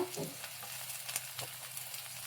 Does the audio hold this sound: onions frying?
yes